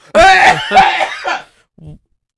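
Several harsh, close coughs in quick succession, trailing off, then a short faint throat sound.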